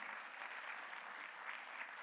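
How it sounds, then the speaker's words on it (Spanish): A church congregation applauding, a dense steady roar of many hands clapping at once, moderately loud and continuous, with no talk over it. "dale un aplauso fuerte al Señor"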